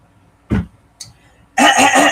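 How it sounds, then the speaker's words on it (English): A person clears their throat with a short rough burst, followed by a smaller second catch, before a louder sustained sound takes over near the end. "let me clear my throat again"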